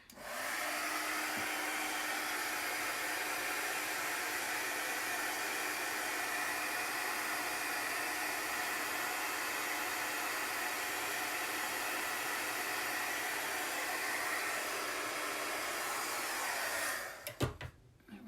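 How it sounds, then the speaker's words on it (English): A hair dryer blows in one steady, loud rush of air for a long stretch, drying chalk paint, then switches off near the end. "now I think I'm just going to dry that with the dryer."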